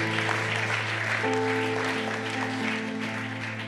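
Church congregation applauding, a continuous dense clapping texture over sustained organ-like chords, steady and moderately loud throughout.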